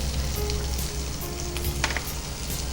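Sliced onions fry with salt in a pan, giving a steady close sizzle with small pops and a faint low hum underneath, no one talking.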